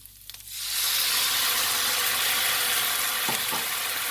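After a brief quiet start, a loud, steady sizzle erupts as spice-heavy Thai curry paste hits a hot pan for stir-fried beef, crackling, popping and hissing to the end.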